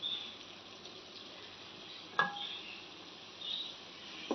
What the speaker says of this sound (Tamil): இப்போ நல்லா வதங்கிட்டு ஃப்ரெண்ட்ஸ்.